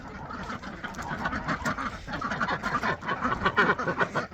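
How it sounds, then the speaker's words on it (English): A flock of ducks quacks busily and continuously inside a farm barn at feeding time, many overlapping calls close by, growing slightly louder toward the end. "Ducks."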